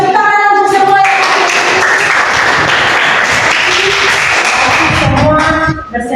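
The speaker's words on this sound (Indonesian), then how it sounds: "Kita tepuk tangan untuk semua" Classroom audience clapping for everyone, a loud burst of hand claps that starts after a moment of talk, keeps up for several seconds and then fades as a voice returns at the end.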